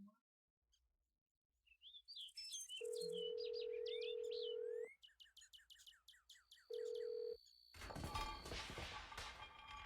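Telephone dial tone from the Nancy Drew: Trail of the Twister video game, a steady loud tone lasting about two seconds then returning briefly, amid chirpy bird-like game sounds and a clanging burst at the end.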